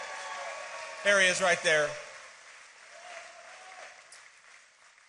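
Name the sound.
audience applause for Congressman Brian Mast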